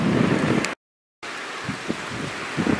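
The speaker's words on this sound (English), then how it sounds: "there's a big ocean out there and it's really windy" Strong wind buffets the microphone at an ocean overlook above a river mouth near Jenner, a steady broadband roar with low gusty rumbles, broken by a brief cut to silence before the gusting resumes.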